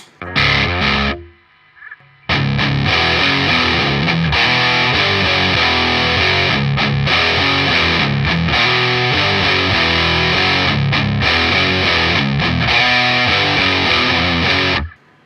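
Electric guitar played through a heavy distortion pedal, a brief chord then a short pause before a sustained, loud, chugging rhythm riff.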